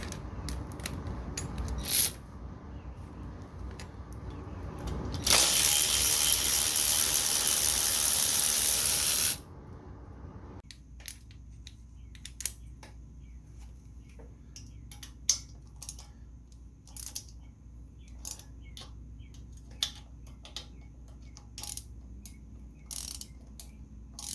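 Ratchet wrench loosening the intake manifold fasteners on a 1977 Moto Guzzi V1000 I-Convert, a sharp burst of mechanical noise followed by a long run of close, quiet ratcheting clicks.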